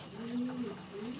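A fancy pigeon coos softly while the flock eats grain, a low throaty warble rising and falling over a steady background hum.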